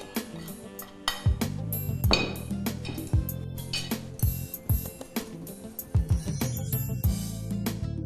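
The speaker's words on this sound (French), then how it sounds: "on va mélanger les jaunes d'œufs et la poudre de maïzena avec notre fouet" A whisk mixes egg yolks and cornstarch in a bowl in a kitchen. Sharp metallic clinks and taps come in uneven bursts, loud and close, with short pauses between strokes and no voices.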